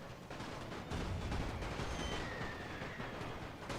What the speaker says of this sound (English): I clearly heard the machine gun down here.